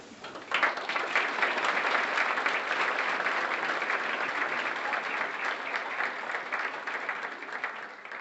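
An audience at an academic recognition ceremony at Ohio State Marion gives sustained, even applause after an award is announced. The clapping starts abruptly and carries on at a moderate level with no talking.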